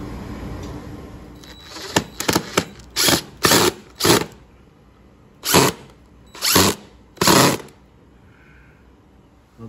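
A power drill whirs in several short bursts driving self-tapping screws for a glass sliding door lock, some quick spurts then a run of brief revving pulses separated by pauses, close and loud.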